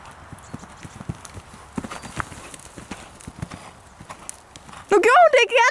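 Horse hooves clip-clop steadily through an outdoor riding session, soft repeated thuds beneath a faint background, before a loud burst of speech and excited voices takes over near the end.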